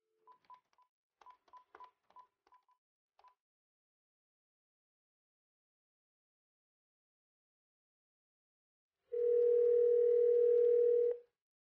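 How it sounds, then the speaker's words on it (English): NEC office phone system keypad tones, a quick series of short DTMF beeps as a number is keyed, then after a pause a steady dial tone that holds for about two seconds, close and clear. "you're going to hit the conference soft key, which is going to give you dial tone. Then you're going to key in the next number"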